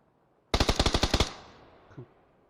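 A sharp burst of automatic gunfire in a video game, about eight rapid shots in a row, then a fading echo and one faint thud afterward.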